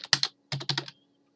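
A computer keyboard being typed on up close: a quick burst of a few keystrokes, a short pause, then a second flurry of clicks, with no talking.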